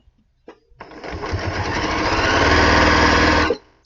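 A sewing machine stitching a quilt block: a brief click, then a loud, steady motor whir running close for about three seconds before stopping abruptly.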